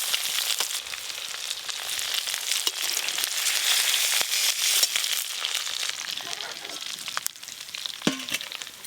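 Pieces of food for a chicken chaap and biryani meal fry in hot oil in a pan, giving a loud, steady sizzle with crackles throughout and a few faint clinks.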